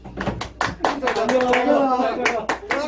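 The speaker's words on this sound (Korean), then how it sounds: "자, 박수 치자." A small audience gives a short burst of clapping, a handful of sharp, quick claps mixed with a voice talking over them.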